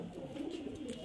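Cooing of high-flyer pigeons, a soft, continuous low murmur of overlapping coos lasting about a second, moderately near and steady, with no talking.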